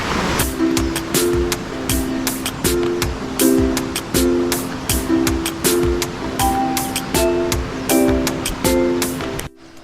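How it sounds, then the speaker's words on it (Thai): Continuous rush of a flowing stream at a campsite fills the background, with rhythmic, repeating chirps pulsing over it. "สายน้ำที่ไหลตลอดทั้งคืนเวลาเรานอนนะครับ"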